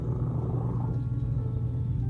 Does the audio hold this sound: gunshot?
no